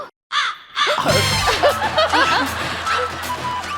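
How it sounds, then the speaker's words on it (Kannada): Loud, overlapping koel calls ring out continuously after a brief silence, busy and close. "ಏನದು ಕೋಗಿಲೆಯ ಸದ್ದು?"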